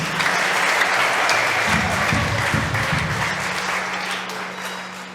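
A church congregation applauds at a Sunday service, sustained loud clapping from a crowd that holds steady throughout and tapers slightly toward the end, with a low tonal hum beneath.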